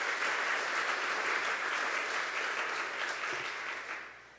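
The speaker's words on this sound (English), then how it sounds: "Give yourselves a big round of applause." A large crowd applauds steadily, dense clapping that holds for several seconds before tapering off toward the end.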